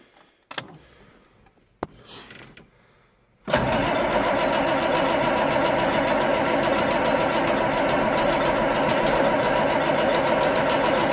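A cold engine in a Quonset shed starts without its block heater plugged in. A few faint clanks come first, then a sudden steady, loud, rattly idle that drones on evenly.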